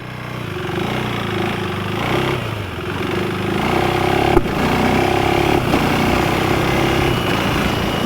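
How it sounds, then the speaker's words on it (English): KTM 390 Enduro R single-cylinder motorcycle engine pulling away, a steady close drone with harmonic hum, a sharp cough-like stumble midway, then rising revs that hold loud to the end. "you could actually hear the bike kind of give a little cough as it pulled away"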